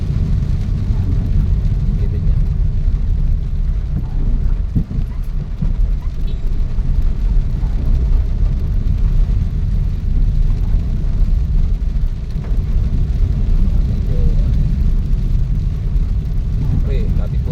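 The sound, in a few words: road traffic with motorcycles and tricycles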